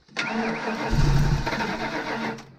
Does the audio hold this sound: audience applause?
no